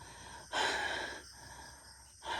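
Heavy breathing from a tired man, close to the microphone. Strong, gasping exhales come in uneven bursts with short pauses between them, and no words are spoken.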